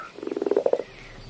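A single frog in the game Minecraft gives one loud, close croak made of about a dozen rapid pulses, rising and then stopping within about a second.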